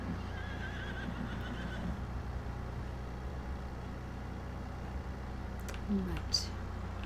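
Horses neighing and whinnying in the Farming Simulator 22 video game, a faint whinny heard over a steady low background hum.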